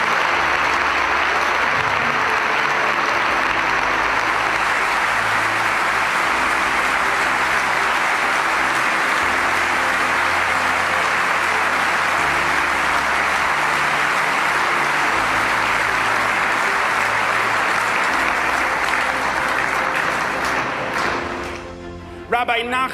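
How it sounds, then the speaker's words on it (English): Sustained applause from a gala banquet audience, loud and steady for about twenty seconds with dense clapping throughout, tapering off at the very end. "let me pause here for a moment and ask you for a round of applause for Rabbi Kotlarski."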